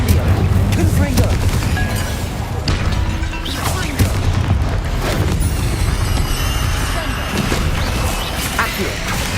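Confringo explosion spell during spell-casting combat in Hogwarts Legacy: repeated loud booms and crashing impacts layered over a dense, constant roar of battle effects across the stretch.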